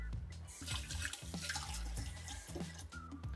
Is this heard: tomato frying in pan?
no